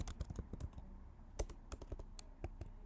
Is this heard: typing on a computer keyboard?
yes